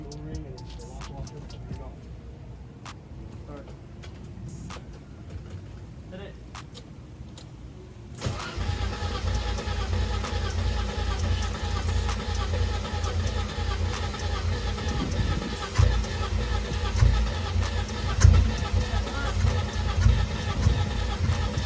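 A BMW E30 engine with a new fuel pressure regulator cranks repeatedly on a weak battery, starting with a sudden loud churning that continues without firing, with people talking nearby.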